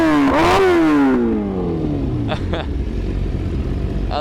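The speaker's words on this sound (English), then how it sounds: "I love how consistent the pops are" A stretched BMW S1000RR sportbike revs and its exhaust pops, loud and close at first, then the engine note drops as the rider eases off, leaving a few sharp pops over steady road rumble.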